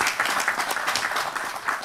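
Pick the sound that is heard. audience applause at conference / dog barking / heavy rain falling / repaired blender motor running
audience applause at conference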